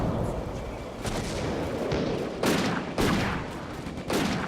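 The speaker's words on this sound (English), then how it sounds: "Rifle, small arms fire." Small-arms rifle fire in the video game Combat Mission: Afrika Korps, set in a desert battle at Bir Hakeim: repeated loud, cracking volleys of shots at an uneven pace over a constant battlefield rumble.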